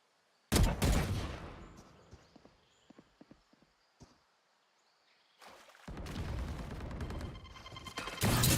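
Gunfire in a CS:GO match: a loud burst of shots opens, then sparse scattered pops, then sustained heavy firing that carries to the end.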